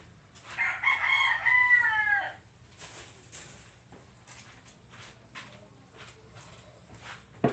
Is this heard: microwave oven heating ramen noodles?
no